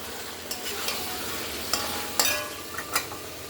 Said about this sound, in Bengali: তো মাংসটাকে ভালো করে কষছি